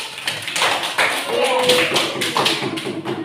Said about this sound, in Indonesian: Tepuk tangan buat Mbak Queen